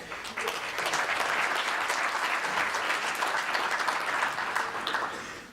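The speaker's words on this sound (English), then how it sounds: "It's a little daunting to get applause up front." An audience at a conservation talk on riparian buffers breaks into sustained applause, a full, even roar of many hands clapping that stays loud throughout before tapering off at the close.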